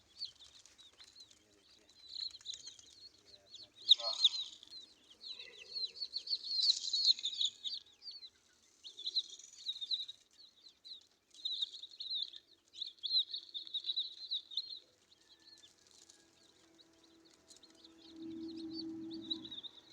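Small chicks on a poultry farm chirp in thin, high, rapid peeps that come in scattered bursts throughout, fairly close, with a few lower clucks and rustling near the end.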